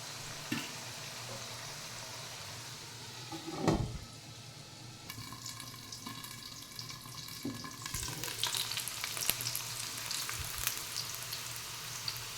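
Cut potatoes fry steadily in a pan of oil for sabudana khichdi, a continuous close sizzle broken by a few stirring scrapes and clinks of a spoon against the pan.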